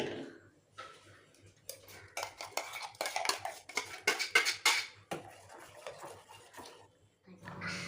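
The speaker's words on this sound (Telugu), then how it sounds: "పాలు పొయ్యి మీద పెట్టేటప్పుడే మీగడ కట్టుకోకుండా కలుపుకుంటూ ఉండాలి" A spoon scrapes and clinks against a pot as milk is stirred on a stove, irregular metallic taps and rubbing strokes up close, with a voice speaking over it.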